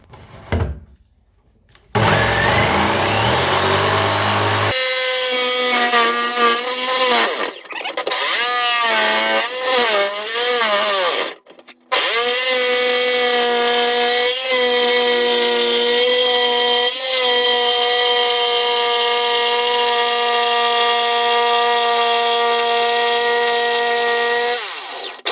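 Power saw with a blunt blade cutting a wooden kitchen worktop, a loud sustained whining drone with shifting pitch as it bites, brief pauses between passes, then a long steady high-pitched cut.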